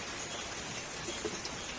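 Steady, even hiss of rain falling, fairly faint and continuous, with no voices.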